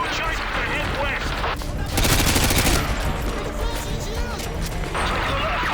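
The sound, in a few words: gunfire in Call of Duty: Modern Warfare 2 video game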